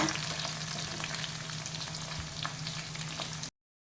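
Bitter gourd fries in hot oil, a steady close-up sizzle and crackle with scattered small pops from the seeds, ending abruptly.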